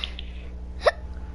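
A single hiccup, sharp and fairly close, pops out alone against a low steady background hum with no talking around it.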